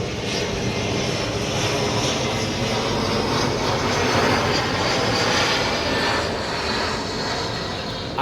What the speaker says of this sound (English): Oh, there goes the big plane.